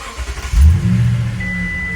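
Second-generation Toyota Tundra's 5.7-liter V8 engine running close by, a deep low rumble that swells into a brief rev and then settles into a steady idle, with no speech.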